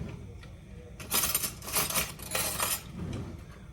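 Wooden spoon and metal utensils clattering against a frying pan while garlic is being fried, with bursts of rattling contact over a steady sizzle, fairly close.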